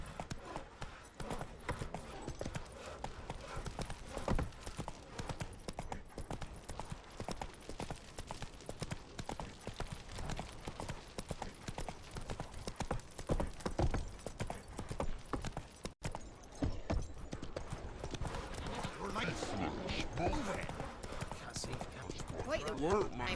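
Horse hooves trotting in The Witcher 3, a steady rapid clip-clop that runs throughout at close range, with a voice speaking over parts of it.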